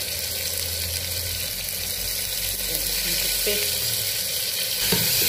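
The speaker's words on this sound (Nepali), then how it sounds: "त्यहाँदेखि तपाईँ अदुवा लसुनको पेस्ट हाल्नुहोस्।" Ginger garlic paste sizzling in hot oil in a pan while cooking dal thukpa, a loud steady hiss with a few knocks of a utensil against the pan.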